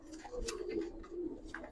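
A domestic pigeon, one of a pair of Giribaz coloring pigeons, gives a soft, close cooing call of a few short pulses over a brief quiet moment.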